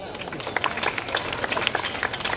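Audience applause at a school annual day celebration, a dense and continuous patter of many hands clapping at moderate distance, with crowd noise and voices mixed underneath.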